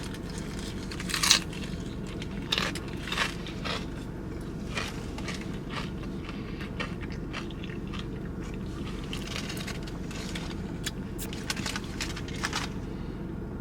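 A Jimmy John's Kickin' Ranch Unwich, a lettuce-wrapped sandwich with meat, chewed close up, repeated crisp bites and crackling crunches over a steady low background, with no talking.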